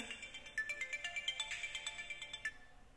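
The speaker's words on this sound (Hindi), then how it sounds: "सॉरी यार फोन आ गया तो उसके लिए क्षमा चाहता हूँ" A mobile phone ringtone interrupts a talk about IPU LEET admissions, a bright electronic melody of quick repeated notes playing steadily and fairly close for a few seconds with no talking over it.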